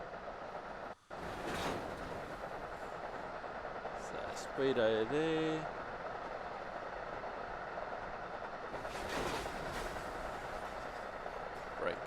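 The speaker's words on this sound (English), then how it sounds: "we'll hear the clickety clack of the train on the track" Train rumble and rhythmic wheel-on-rail clatter from Train Sim World on a Boston route plays steadily throughout, with someone talking briefly over it and occasional louder passing bursts.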